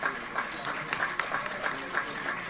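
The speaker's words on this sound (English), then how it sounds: "if you are clapping, clap" Audience applause at a celebratory gathering honouring a prophet, a steady wash of many hands clapping at moderate level, with faint voices mixed in throughout.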